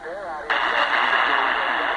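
Shortwave broadcast playing through a small Grundig shortwave radio, a steady band of hissy, tinny audio with wavering tones, jumping louder about halfway through and continuing without a break.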